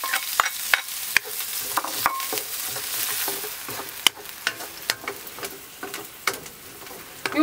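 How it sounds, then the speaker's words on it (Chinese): Scallions stir-fried over low heat in a home kitchen give a soft, steady sizzle, punctuated by sharp ticks and scrapes of a spatula against the wok at an irregular pace. "用小火把葱炒干炒香"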